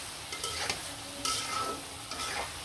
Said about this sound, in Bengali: ঝিঙ্গাটা কিন্তু খুব সুন্দরভাবে নাড়াচাড়া দিয়ে দিব